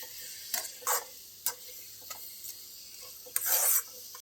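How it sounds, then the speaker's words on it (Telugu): A coconut laddu mixture is stirred steadily in a pan to keep it from sticking, giving soft scraping strokes over a faint sizzle, with a few sharper scrapes and a longer louder pass near the end, no voices. "ఇది ఇలా అడగంటకుండా ఇది కలుపుకుంటూనే ఉండాలండి"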